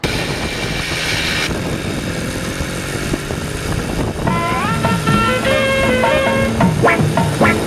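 A motorcycle engine runs close by with a continuous buzzing drone, rising and falling as it is revved in the later seconds, with no talk over it.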